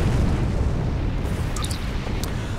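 A starship explodes in the video game Star Trek Online, a loud sustained roaring blast that fills the whole clip with dense rumble, with a few faint high electronic tones near the end.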